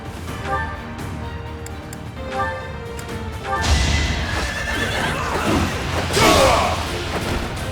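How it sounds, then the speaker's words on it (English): A horse neighs loudly in the video game Fire Emblem: Three Houses, a shrill whinny followed by clip-clopping hooves and heavy crashing battle thuds, close and with no talk. "So Rafi is on a horse."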